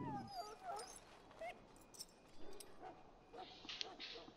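A dog whimpers and yips in the fantasy role-playing game Dragon Age: Origins, with several high plaintive whines and small cries spread over a few seconds, fairly faint against a quiet game background.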